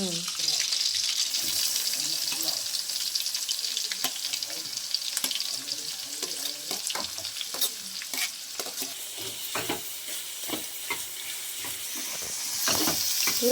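Onion, tomato and garlic frying in a pan for a village-style vegetable dish, a soft sizzle broken by frequent spoon stirs and scrapes, with running water nearby and faint background talk.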